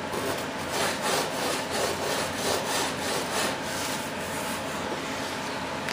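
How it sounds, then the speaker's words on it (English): Sandpaper rubbing back and forth on a part for a large yellow F-18 turbine jet model, steady rhythmic scratchy strokes, close and fairly quiet with no talking. "You don't want to over sand this."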